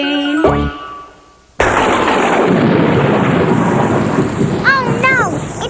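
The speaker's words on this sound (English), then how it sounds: "Oh no! It's raining!" A thunderstorm with heavy rain suddenly bursts in as a loud, dense, steady roar and hiss after a short tinkling musical opening, with a few high chirping notes near the end.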